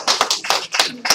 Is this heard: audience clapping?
yes